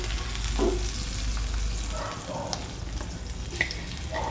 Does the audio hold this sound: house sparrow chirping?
no